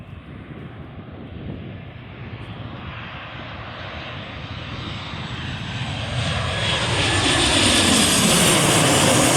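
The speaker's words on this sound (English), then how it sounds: "That wasn't an Airbus A320s, it was actually a Boeing 737." A Boeing 737 jet airliner roars past close by, its engine noise swelling steadily louder toward the end as it comes in to land.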